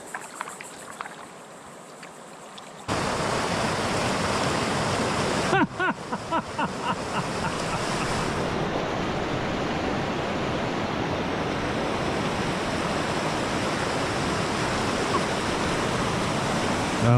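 Whitewater on the Tanjil River rushes loudly and steadily during a rafting descent, a dense broadband roar that surges after a quieter opening, with brief splashes and knocks of the boat on water.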